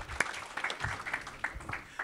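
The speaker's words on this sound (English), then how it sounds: "So let's hear it for Tim. Applause." Audience applause at a venture capital panel event, a brief burst of clapping lasting about two seconds, moderately loud with uneven, scattered claps.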